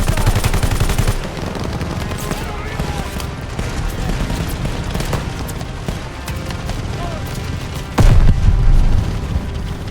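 Call of Duty: Vanguard battle with steady gunfire and machine-gun bursts, loud and continuous, a heavy blast near the end, while soldiers shout orders over the din.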